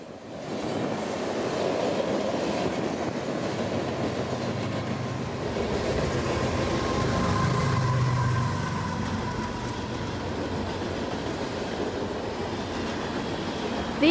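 A long freight train of hoppers, tanks and boxcars, over 7,000 feet, rolls past near Dade City, Florida, a loud continuous rumble of wheels and cars with faint metallic squeal, steady throughout, no voices.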